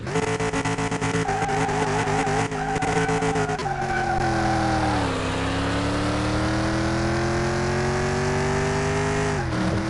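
Video-game car on a speed track revs hard and squeals its tires in long skids, engine pitch climbing and sliding through gears, loud and close with no talking.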